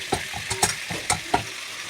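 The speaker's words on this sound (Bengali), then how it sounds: "এবার আলুটা ভালো করে ভেজে নেব।" Potatoes seasoned with salt and turmeric fry in a pan, a close sizzle punctuated by quick, rhythmic scrapes and clacks from stirring.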